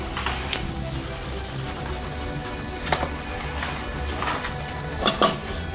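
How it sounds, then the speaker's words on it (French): Flour and oil cooking in a frying pan on the stove for a cauliflower gratin sauce, a soft steady sizzle broken by a few sharp clinks of a utensil against the pan. "Vous mélangez la farine et l'huile sur le feu."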